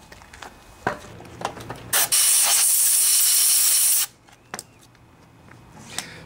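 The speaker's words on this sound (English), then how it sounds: "I'm going to spray some carburetor cleaner in here to clean out the area." A steady two-second hiss of aerosol carburetor cleaner sprayed into a Honda lawnmower carburetor, loud and close, with faint clicks and handling noises before and after.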